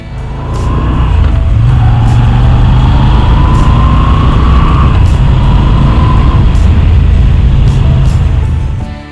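A Moto Guzzi V7 Stone 850 twin-cylinder engine drones loud and close in a sustained run of about eight seconds, its pitch rising and falling gently as it pulls.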